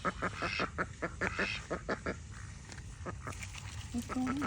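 Ducks quack repeatedly in quick bursts close by, with several birds calling over one another; a person talks nearby at times.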